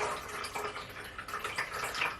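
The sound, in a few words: filtered water poured into Letpot hydroponic system reservoir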